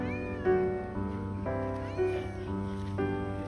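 A cat meows over and over in quick succession, close and fairly insistent, each cry short and clear.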